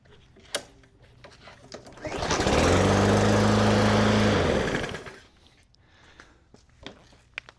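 A Briggs & Stratton lawn mower engine, freshly repaired with a carburetor fix, fires up after a short pull and runs at a steady loud drone for about three seconds before cutting out, with quiet handling noises before and after.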